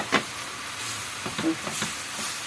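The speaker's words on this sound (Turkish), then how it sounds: "Şu anda da domateslerimi atıyorum." Tomatoes tossed into a hot sac pan over meat, green peppers and garlic give a steady close sizzle with a brief stirring clatter, no talking.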